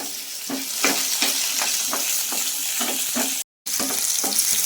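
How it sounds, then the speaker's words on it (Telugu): Green chillies, coriander seeds and cumin fry in a pan for a chutney, giving a dense continuous sizzle with a steady rhythm of stirring scrapes, close and loud, briefly dropping out once, with no talking. "మనం పచ్చిమిర్చి వేగుతున్నప్పుడు స్పూన్ ధనియాలు ఒక హాఫ్ స్పూను జీలకర్ర వేసుకొని ఇప్పుడు మనం పచ్చిమిర్చిని బాగా వేపుకున్నాం"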